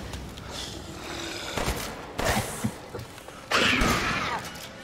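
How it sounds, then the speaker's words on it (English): Several shotgun blasts from Resident Evil Village gameplay ring out in separate bursts, each sharp report followed by a broad noisy decay, the last one loudest, over a steady game ambience. "Shotgun!"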